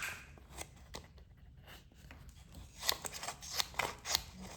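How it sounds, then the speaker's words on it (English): Multper multitool scissors snipping through paper, a run of sharp crisp cuts, sparse at first, then quicker and louder near the end, close up with no talking. "we're gonna cut some paper with it"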